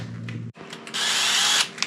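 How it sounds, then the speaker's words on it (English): A power drill with a 1-inch hole saw cutting into an RV roof: a brief motor whir, a short pause, then a loud, sustained grinding cut up close that stops abruptly. "It's always scary drilling into a roof, that's for sure."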